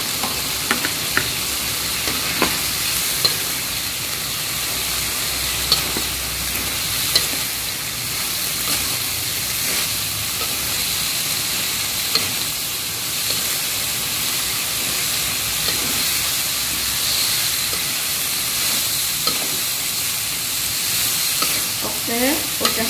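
Bean sprouts and tempeh being stir-fried in a pan for a petai dish, a steady broad sizzle under repeated scraping and tossing of the spatula, fairly close and continuous with no voice.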